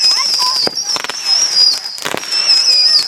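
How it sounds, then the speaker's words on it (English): Fireworks at a family reunion at night crackle and bang in loud sharp bursts, with whistling high streaks overhead and people talking amid the noise. "Hell yeah, those are fireworks."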